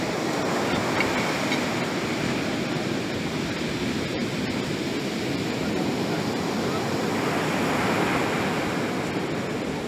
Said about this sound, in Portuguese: sentir a brisa bater e as ondas do mar, não é? A emitirem o seu som agradável